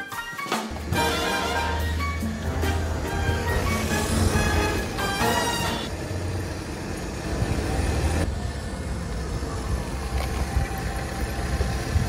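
A Piaggio Zip scooter engine runs continuously, a steady mid-pitched buzzing drone that rises and falls slightly with throttle, close and loud without talk.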